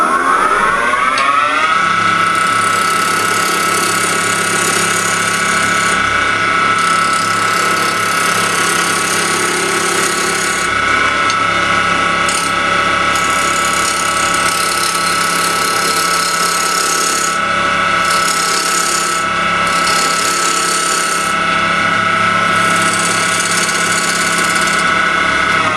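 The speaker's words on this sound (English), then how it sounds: "We'll do a little bit more with a roughing gouge." Wood lathe spinning a cabriole leg blank while a roughing gouge cuts, a loud continuous motor drone with steady tonal whine and rough scraping, no talking.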